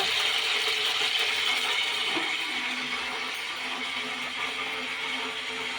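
Water hitting hot oil sets off a dense, crackling sputter, loud and close at first, then settling into a steady fizzing hiss with no talking.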